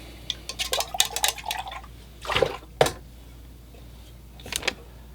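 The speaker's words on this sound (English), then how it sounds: "So I just changed out the water in my water bucket, put in some fresh, clean water." Water being changed in a painter's rinse bucket: a few splashes and pours, with light clinks and drips in short bursts between quieter pauses.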